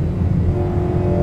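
The engine of an Alpine A110R hums as a steady, close, loud low drone while the car cruises, with no speech over it.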